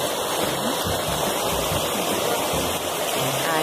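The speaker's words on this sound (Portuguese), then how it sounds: "Vem dali de uma queda d'água." A waterfall pours steadily beside a road on the Caminho da Fé pilgrimage route, a dense, constant rushing roar of falling water with no pauses.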